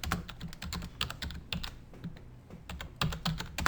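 Fingers type rapidly on a computer keyboard, producing close, dense clacking keystrokes in quick irregular bursts. Two brief pauses break the rhythm, and there is no talking.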